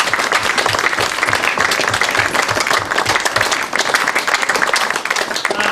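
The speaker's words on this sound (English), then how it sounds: "I'd like to then come out please and give them another round of applause because they are amazing." An audience at a Christmas science lecture gives a sustained round of applause, dense steady clapping filling the hall throughout without a break.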